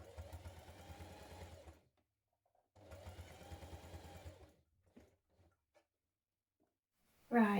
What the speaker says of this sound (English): I'll sew it back on